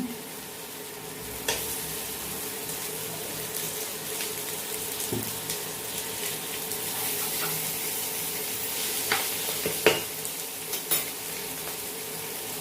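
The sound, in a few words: frying banana flower dish in ghee while stirring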